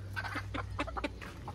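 A chicken clucks in a rapid run of short, sharp calls, close and fairly loud, over a steady low hum during Dashain festival preparations as the bird is readied for slaughter.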